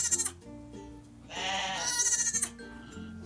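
A newborn lamb bleats repeatedly, its calls high, thin and baby-like as it cries for its mother, with several short bleats followed by a longer, louder one close by.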